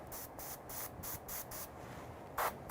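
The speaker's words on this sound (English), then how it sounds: "It's going to look like I'm spraying all over the model" Spray paint hissing onto a miniature tabletop model for an Eldar centerpiece, coating it black: a run of short, evenly spaced bursts, each cutting off cleanly, with a louder final pair near the end and no voices.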